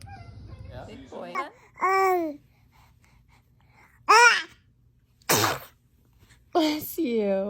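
A baby sneezes several times in short, sharp bursts between soft babbling sounds, close to the microphone, with quiet pauses between.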